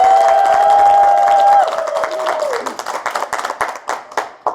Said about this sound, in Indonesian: Tepuk tangannya yang keras dong.